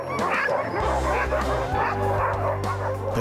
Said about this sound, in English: The chorus of excited dogs is music to the ears of owner-operator Peter McClellan.